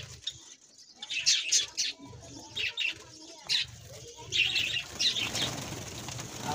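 Java sparrows in a cage flutter their wings in repeated short bursts and give scattered bright chirps, fairly close, with faint murmuring underneath.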